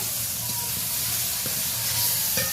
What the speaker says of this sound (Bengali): আমি গরম জল অ্যাড করে দিচ্ছি।